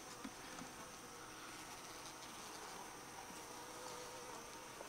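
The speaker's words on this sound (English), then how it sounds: "We have bees living in here." Honey bees in a beekeeper's nuc hive, crowded on drawn comb frames and storing sugar syrup, make a faint, steady buzzing drone with no speech over it.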